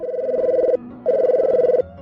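Telephone ringing on an outgoing call to a government ministry, two long warbling ring tones separated by a short pause, clear and close with no talking.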